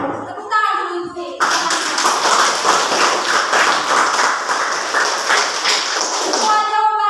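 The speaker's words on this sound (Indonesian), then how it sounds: "Tepuk tangan dulu untuk" Students in a grade XI classroom break into brisk, loud clapping together after a voice speaks, the applause sustained for several seconds before a voice returns at the end.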